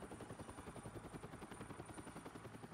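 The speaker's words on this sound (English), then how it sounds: "loud helicopter." A loud helicopter in the video game Batman: The Telltale Series drones steadily, its rotor thumping in a fast, even pulse with a high whine over it; no voices.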